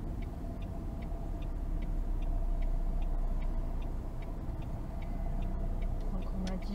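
A car's turn signal ticks steadily at an even rhythm, left indicator on during a driving exam in Aix-en-Provence, over a constant engine and road rumble inside the cabin.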